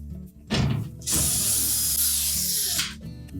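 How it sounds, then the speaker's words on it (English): Power drill or driver whirring as it backs out the two mounting screws holding a water valve to the rear of a GE washer, with a short burst followed by a longer steady run, close and fairly loud. "Then we just need to remove the 2 mounting screws from the back."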